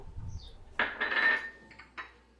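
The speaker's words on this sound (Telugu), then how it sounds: "స్టవ్ వెలిగించుకొని గిన్నె పెట్టుకుంటున్నా." A metal cooking pot set down on a lit kitchen stove gives a few sharp clanks and ringing metallic clinks, close and distinct against a quiet background.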